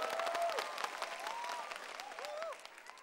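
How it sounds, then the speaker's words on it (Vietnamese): Audience applause for dancers at a So You Think You Can Dance Vietnam finale show, a soft, steady clapping bed with tonal music or voice glides sounding over it. "Xin một tràng pháo tay cho Vi Anh và Tấn Huy"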